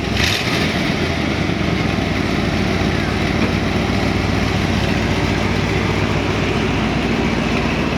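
A 1972 Corvette Stingray T-top's engine roars loudly throughout a test drive, a dense rumbling drone that stays strong and steady after a brief start at the beginning.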